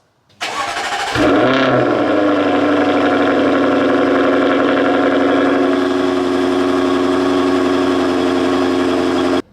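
A Jaguar F-Type sports car engine fires up with a sharp crank and settles into a loud, steady idle in comfort mode with a deep rumble that continues throughout.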